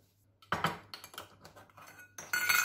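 Spoon scraping and clinking in a bowl as cauliflower batter with baking powder is mixed, a busy run of metallic taps and scrapes, close and moderately loud, with no talk.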